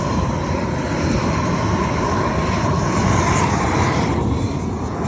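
A gas torch roars steadily and loudly at full flow after its knob is opened and trigger pulled, with grass burning nearby; a dense, continuous rushing blast holds for about five seconds with no speech.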